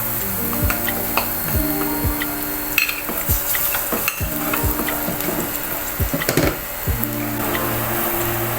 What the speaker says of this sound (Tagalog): Igisa na po natin yung bawang.